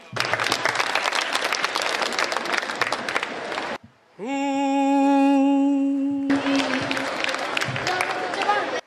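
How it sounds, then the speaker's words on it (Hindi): A live Hindi poetry audience bursts into dense, loud applause, which breaks off for a few seconds of a single sustained pitched tone and then returns just as full and steady. "आप लोग तालियां बजाएं"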